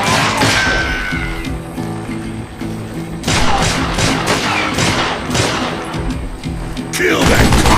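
Gunshots ring out in Call of Juarez: Gunslinger, loud booming shots and rapid volleys in bursts with echoing tails over a droning game soundtrack, the heaviest bursts near the start, middle and end.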